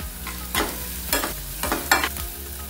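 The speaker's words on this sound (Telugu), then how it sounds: "ఒక చిన్న ఉల్లిపాయ తరుగు వేసుకొని వేపుకోవాలి।" Chopped onion and green chillies fry in a pan, a soft continuous sizzle broken by four distinct scraping stirs at roughly even intervals, close and clear with no voices.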